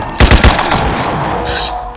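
Gunfire from a gun in a Roblox video game rings out as a quick loud burst of several shots, followed by a lingering game-noise tail and a short tone near the end.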